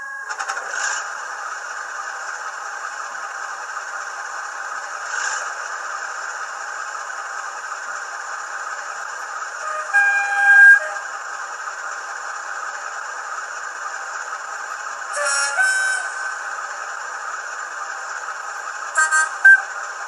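A model locomotive's Hm7000 sound decoder, running a class 52 sound file, hums with a steady engine drone, broken by a few short horn toots near the middle and end, with no talk.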